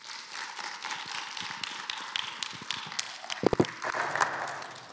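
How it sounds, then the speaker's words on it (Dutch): At a Dutch panel discussion on drug use and crime, audience applause comes as scattered, uneven claps that build into a fuller burst near the end, moderately close. "Hartelijk applaus alstublieft."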